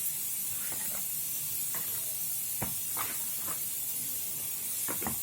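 Green chillies, tomatoes, mint and coriander fry in a pan with a steady hissing sizzle throughout, broken by a few soft stirring scrapes and clinks; no one speaks.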